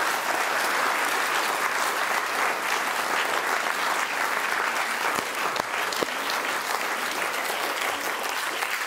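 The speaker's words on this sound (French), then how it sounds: "Applaudissez-vous." Steady, loud applause from a large audience, continuous clapping throughout with no pauses.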